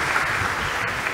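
Brief burst of steady clapping from a graduation ceremony audience, the Class of 2021 honoring a top student award winner, even and continuous throughout.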